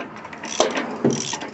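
Mechanical clicks and grinding as a seized Honda GX270 engine on a generator is turned over by hand, two distinct ratcheting clunks over a faint background hiss.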